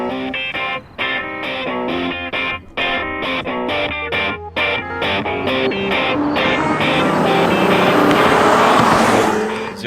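An Infiniti Q50S with a twin-turbo V6 launches hard from a stop, the engine note building loud and close with a rising rush as it pulls, over a choppy broken stretch at the start.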